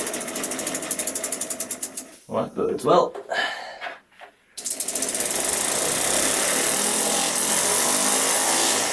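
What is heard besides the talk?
Lego air-powered single-cylinder engine running at 35 psi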